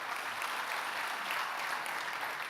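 Conference audience applauding, a dense, even wash of many hands clapping at moderate distance, steady throughout with no voices.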